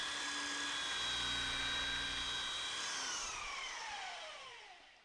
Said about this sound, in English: I've gone around that with the belt sander, just gave it a quick touch up, smooth out those edges